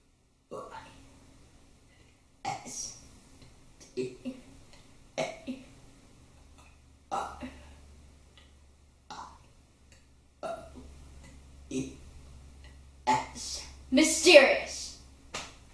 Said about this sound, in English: I have burped 10 words.